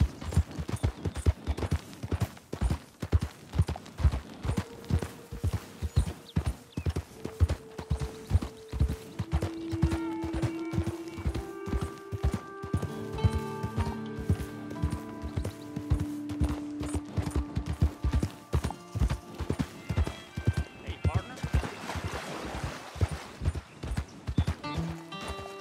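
Steady clip-clop of horse hooves at a walking pace in Red Dead Redemption 2, close and rhythmic, with tonal game-style music swelling in the background and a brief whinny near the end.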